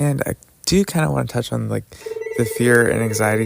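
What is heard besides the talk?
telephone ringing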